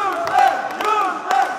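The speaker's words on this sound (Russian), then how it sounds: "Игроков активно поддерживают болельщики" Sports fans in Dagestan cheer on their teams at a match, a dense sustained crowd roar with swelling shouts and whoops rising in bursts throughout.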